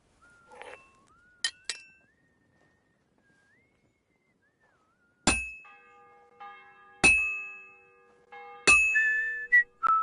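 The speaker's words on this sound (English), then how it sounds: "The bell's ringing for Hans the 5th time." A bell in the medieval video game Kingdom Come Deliverance 2 rings in separate clear strikes, three bright dings spaced a couple of seconds apart, each ringing out, with a soft whistling tone and a few clinks around them.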